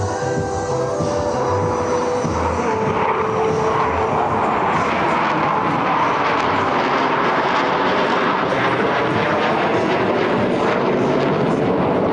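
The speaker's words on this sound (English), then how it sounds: "All four aircraft flying as one in this graceful 360-degree rolling maneuver." US Navy Blue Angels F-18 jets fly a four-aircraft rolling maneuver at an air show. Their engines make a constant, loud, broad roar that fills the whole stretch without letup.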